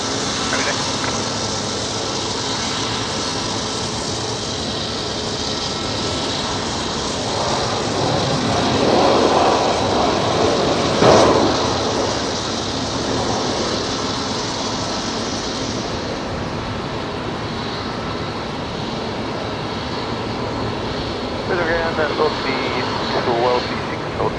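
A passenger jet touches down on runway 01 right at Brisbane Airport at night, its engine roar a steady broad rumble that swells briefly midway, heard from a distance beneath radio chatter and nearby talk.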